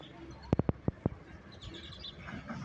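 A baby bird that has fallen from its nest gives five or six sharp, short chirps in quick succession, close and fairly loud, followed by quieter background noise.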